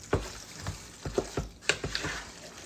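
Tuna casserole mixture with peppers cooking in a pan, giving a low frying crackle broken by several soft scraping stirs in an uneven rhythm, close and moderately quiet with no talking.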